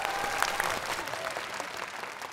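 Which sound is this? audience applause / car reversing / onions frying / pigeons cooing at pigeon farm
audience applause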